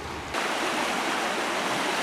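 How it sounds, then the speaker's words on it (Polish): Steady rushing flow of a stream in the Finnish countryside after rain, a continuous broadband wash of water that starts abruptly after a short quiet moment and holds even and fairly close. "Piękny strumień."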